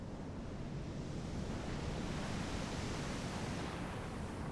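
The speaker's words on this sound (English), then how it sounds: "We walked around for a while and watched the waves smack against the rocks." Pacific Ocean surf at Panther Beach, California, a steady broadband roar of waves breaking against rocks below cliffs, continuous and fairly loud with some wind on the microphone and no voices.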